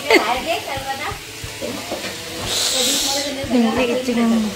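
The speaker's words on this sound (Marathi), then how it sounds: "आणि इकडे मसाला भाजते मी" Masala roasts in a hot pan with a steady sizzle and stirring scrapes while someone talks over it nearby.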